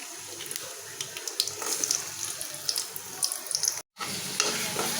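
Onions dropped into hot oil for a vegetable dish give a steady broadband sizzle and crackle, close and continuous, with a brief dropout near the end before the frying noise resumes.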